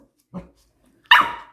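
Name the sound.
cocker spaniel barking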